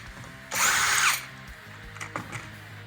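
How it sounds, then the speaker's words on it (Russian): A power drill unscrews window sash hardware during a window repair, one loud burst of about half a second, followed by faint clicks and handling knocks. "Открутили фурнитуру."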